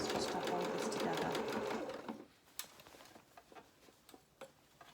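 A sewing machine runs steadily for about two seconds while stitching a doll's pinafore bodice to its skirt, then stops, leaving light ticks and handling clicks nearby.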